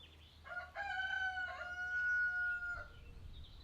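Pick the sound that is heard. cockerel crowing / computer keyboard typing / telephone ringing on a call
cockerel crowing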